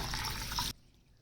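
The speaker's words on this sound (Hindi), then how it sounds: "इनके अंदर पानी शामिल कर लेंगे।" Water pours onto 1 kg of basmati rice to soak it, a close, steady rushing splash lasting well under a second before cutting off abruptly into quiet.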